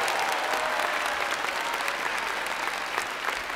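An audience applauds a children's choir at a televised concert, sustained dense clapping from a sizable crowd, steady and fairly loud throughout with no talking.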